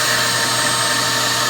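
A wet vac runs continuously, drawing moisture out of a delicate fabric as a loud, steady, close motor whir with airy rushing noise and no pauses.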